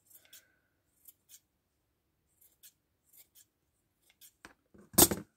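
Scissors snip a faux fur beard on a handmade Christmas gnome, giving a scattering of faint, close, crisp cuts spaced out over several seconds and ending in one louder sharp snip with a brief rustle.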